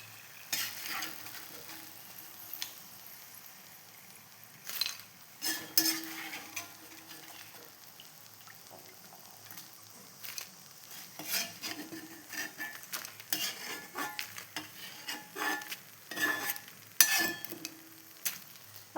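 Fried pappadam being scooped out of hot oil in a cheenachatti (Kerala frying pan), with sizzling oil and repeated metal clinks and scrapes of a ladle against the pan, steady throughout and close by.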